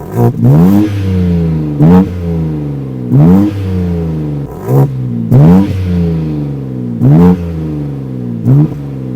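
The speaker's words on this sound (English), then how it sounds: "Take a listen to this exhaust right now because it sounds horrible." Stock exhaust on a BMW G82 M4 revving repeatedly, about six sharp rises and falls in pitch at a steady rhythm, loud and close with no talking.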